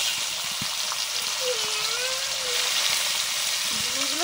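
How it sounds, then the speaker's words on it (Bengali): Figs fry lightly in mustard oil, a dense even sizzling hiss that runs unbroken throughout, with faint thin whistling tones drifting in the background. "সর্ষের তেল দিলাম, এবারে ডুমুরটা হালকা ভেজে নেব।"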